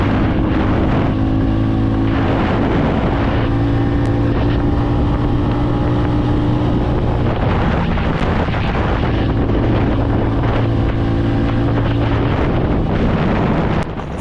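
A TVS Ronin motorcycle running at top speed on a highway, heard as a loud, continuous engine drone with a steady pitch, heavily mixed with rushing wind buffeting the microphone throughout.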